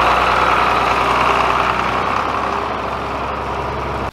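Big farm tractor engine idling close by, a steady low diesel throb that runs evenly and then cuts off abruptly at the end, with no voices.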